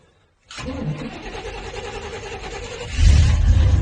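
Car engine cranks and fires after a short silence, then runs steadily, growing louder near the end as it catches and revs up a little; close and loud with no talk.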